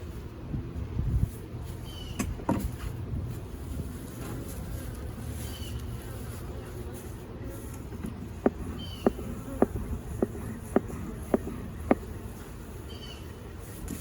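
Honeybees buzz steadily in a close, continuous drone during a hive inspection, while a series of sharp clicks and taps from handling the hive equipment sound near the end.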